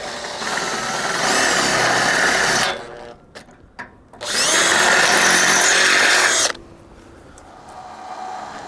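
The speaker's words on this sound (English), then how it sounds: "That drill is wandering so much." Two loud bursts of a power drill boring holes into wooden fence boards, each a few seconds long with a short pause between, followed by a quieter whirring tail.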